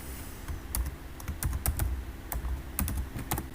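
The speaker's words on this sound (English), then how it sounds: "I am typing one spelling in the chat box." Computer keyboard typing, close and steady, with irregular bursts of key clicks over a faint room hum and no voices.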